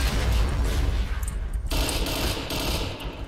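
Dense, continuous gunfire from a video game match with an AUG A3 rifle, rapid overlapping shots forming a loud, steady barrage that shifts in character midway.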